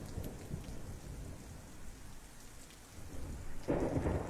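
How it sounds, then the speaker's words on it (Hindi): Heavy rainfall pours steadily outdoors, a dense wash of sound at low level, with a deeper thunder rumble swelling near the end and no speech. "बाहर कितनी अच्छी बारिश हो रही है बाहर।"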